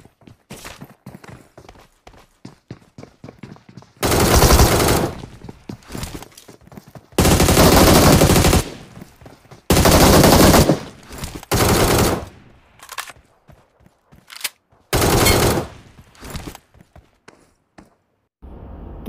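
Gunfire in the mobile battle-royale game BGMI comes as several loud, rapid automatic bursts separated by quieter stretches of faint ticking and steps.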